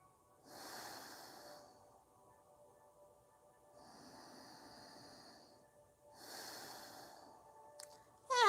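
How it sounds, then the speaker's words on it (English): Slow, deep breaths taken during a yoga stretch, in three long audible cycles of inhale and exhale, each lasting a couple of seconds, close and soft against near silence. "Take long, deep breaths."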